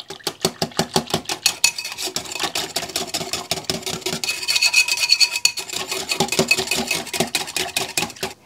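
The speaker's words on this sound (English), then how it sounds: "Now I'm just going to kind of whisk these together." Ginger paste and sauce ingredients whisked together in a bowl for peach pulled chicken, a fast steady scraping and rasping of the whisk against the bowl, close and continuous with no talking.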